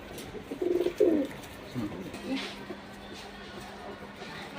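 Pigeons kept for sale, two females and one male, give a few soft low coos close by, grouped near the start with a quieter one after, over faint background noise.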